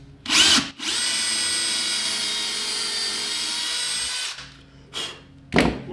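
Power drill driving a single screw into half-inch plywood in a workshop: a steady high whine for about three and a half seconds, framed by short bursts of drill noise before and after.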